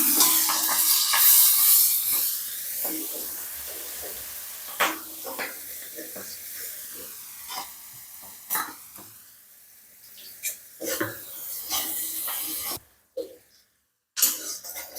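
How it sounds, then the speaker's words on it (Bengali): Chopped onion and green chillies frying in hot mustard oil with panch phoron for a catfish curry, a steady close sizzle broken by sharp scrapes and taps of a spoon, dropping out briefly near the end. "তো পেঁয়াজ কাঁচা লঙ্কা সুন্দর করে ভাজা ভাজা হয়ে গেছে"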